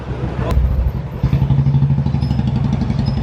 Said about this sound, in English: Scoots and the bikes.